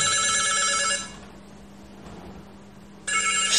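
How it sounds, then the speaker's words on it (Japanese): A telephone bell rings loudly in a steady trill for about a second, falls silent for two seconds of quiet room noise, then starts ringing again at the end; no one speaks. "ちょっとぐーたらしてるパパに鬼から電話かかってきたみたい"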